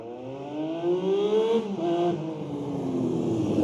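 A Honda CBX1000Z six-cylinder motorcycle engine revving nearby, a smooth rising and falling tonal howl with layered harmonics, one pitch drop midway before climbing again, heard alone.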